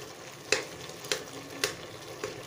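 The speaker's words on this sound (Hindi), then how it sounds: "जो चीज़ें गल चुकी हैं उसको थोड़ा सा इस चम्मच की मदद से और अच्छी तरह से मिक्स कर लेंगे।" A spoon stirs keema with peas in a pan, making four evenly spaced scraping strokes over a soft, continuous sizzle, close and fairly quiet.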